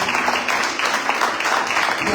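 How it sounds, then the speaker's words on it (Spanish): A church congregation bursts into loud, sustained applause, dense clapping from many hands that carries on steadily with a faint hint of voices underneath. "Denle ese fuerte aplauso."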